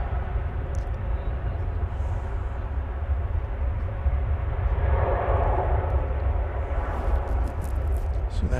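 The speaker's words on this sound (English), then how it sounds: "It's on its way to Shanghai. That's an 8-year-old Dreamliner." Boeing 787 Dreamliner jet at DFW Airport, eight years old and bound for Shanghai, heard as a steady loud engine roar that swells slightly midway, with faint voices in the background.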